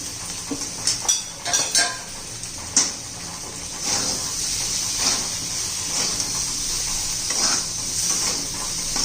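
Potato dry curry stir-fried in a pan with fennel, dried fenugreek leaf powder, turmeric and red chili powder. Spoon clinks and scrapes come early over a constant hot sizzle, then the steady frying continues, close up with no talking.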